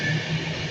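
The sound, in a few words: train passing at Nuneaton station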